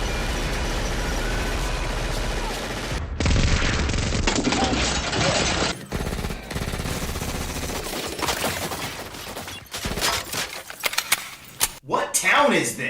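Townspeople in the film Mothra opening fire on a fleeing man, a dense burst of rapid gunfire and clatter with abrupt cuts between loud and quieter stretches of shots, ending in scattered bangs.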